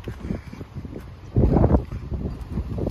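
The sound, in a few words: strong typhoon wind in Yatsushiro, Kumamoto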